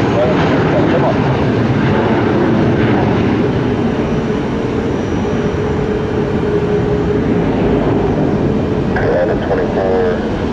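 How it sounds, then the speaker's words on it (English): An airplane takes off from runway 1 left at Tampa International Airport, a loud, steady engine roar that holds throughout with a faint tonal whine rising near the end. "runway 1 left, clear for takeoff"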